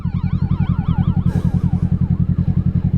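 Wailing emergency siren sweeps up and down over the steady, pulsing idle of a 2024 Kawasaki Ninja 650 with an M4 aftermarket exhaust, both loud and close throughout.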